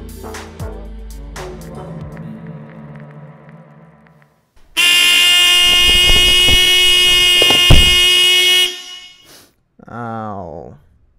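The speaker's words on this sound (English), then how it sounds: "the noisiest and horniest alarm clock that you have ever had" A modified alarm clock blares through a horn: quiet tonal beeps and clicks first, then a loud, sustained blast for about four seconds that cuts off, followed by a short warbling tone.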